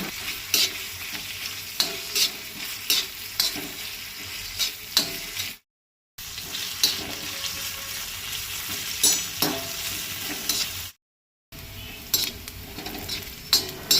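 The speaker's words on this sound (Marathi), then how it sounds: "कांदो लायट ब्रावन जायसर तळसून घेवंक जाय" Onion, ginger and garlic frying in a pan, with a continuous close sizzle broken by frequent scraping and clinking stirs of a utensil; two brief dropouts to silence interrupt it.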